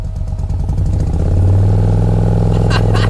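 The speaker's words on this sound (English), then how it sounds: "it is time to get in the car, fire it up, go for a drive," A Stage 1 Morgan 3 Wheeler's engine runs close and loud, a low throbbing beat that firms up and swells slightly as the car begins to move.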